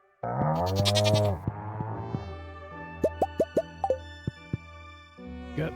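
Goats bleat in Stardew Valley, a few wavering harmonic calls up front, followed by a quick run of bright plopping blips from the farm game, close and clear with no talk.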